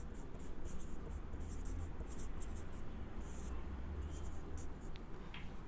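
A pen scratches steadily across paper as someone writes by hand, with short strokes in an irregular rhythm over a constant background hiss. Faint, close, and without clear talk.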